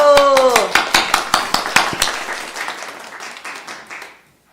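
A church congregation claps in unison during a sermon, about a dozen loud, sharp, evenly spaced claps in a steady rhythm that fade out into silence, with a voice speaking briefly over the first few.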